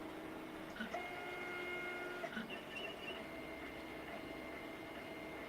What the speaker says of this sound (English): I can hear my printer through my headphones